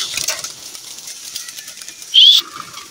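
Homing pigeons let loose at an arrival point in Candelaria, Quezon, with a soft flutter of wings near the start, then a sharp, loud burst of flapping close by near the end, against quiet surroundings.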